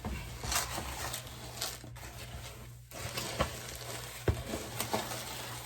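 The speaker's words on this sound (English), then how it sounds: "take my spoon, and I'm just going to stir it up" A spoon stirs homemade laundry detergent in a container. Soft, irregular scraping and swishing with a few light knocks comes in uneven bursts, with a brief pause midway, close by and fairly quiet.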